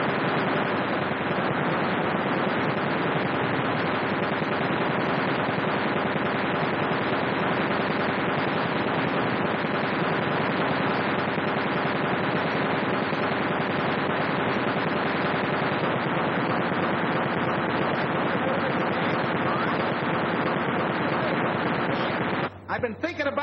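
Sustained, dense automatic gunfire from a WWII-era aerial gunnery scene in which different-colored bullets mark a target, a loud, continuous rattle holding steady for over twenty seconds with talk mixed in beneath it.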